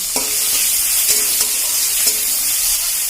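Chopped tomato fries in hot oil with black cumin, giving a loud, steady sizzle with occasional stirring scrapes and clicks close by.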